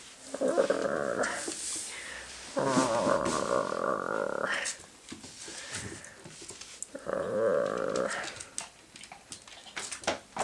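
A dog growling in a bathroom in several sustained rumbling bursts with short pauses between them, fairly close, with occasional whimpery rises and no talk over it.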